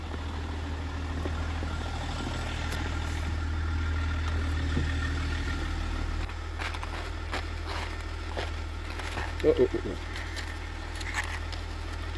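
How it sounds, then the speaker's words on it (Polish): A car engine idles steadily throughout with a low, constant rumble, joined by faint rustling and a few brief knocks midway. "Już nie gaszę motoru."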